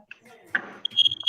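A house fire alarm beeps in short repeated high bursts toward the end, picked up over a live stream mic after a brief muffled voice and a clatter.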